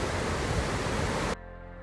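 Beautiful river water rushes in a loud, steady broadband wash during a Death Race 2023 endurance event, running continuously before dropping abruptly to a quieter hiss near the end.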